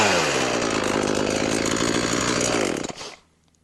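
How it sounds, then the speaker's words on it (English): An Echo CS490 chainsaw revs hard and close for nearly three seconds, the engine buzzing loudly before it drops back and dies away to quiet, with no talking over it. "Isn't that the customary couple of blips of the gas just to make sure your chainsaw's still gonna work?"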